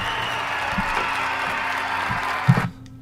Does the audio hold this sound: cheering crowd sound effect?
yes